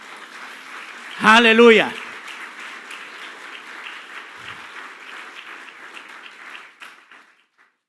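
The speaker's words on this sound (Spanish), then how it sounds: "¿Cuánto le pueden dar un fuerte aplauso al Señor?" A church congregation claps steadily through a worship service, a soft continuous patter that fades out near the end, while one voice calls out loudly over the start.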